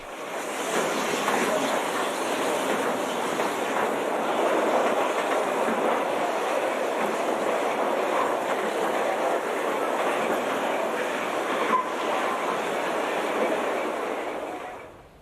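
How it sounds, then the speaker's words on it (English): A narrow gauge train on the Rio Grande line rolls steadily past on rails, a continuous rumbling clatter of wheels and cars that holds at close range for the whole stretch. "South of Rockwood, the train passes above Shalona Lake."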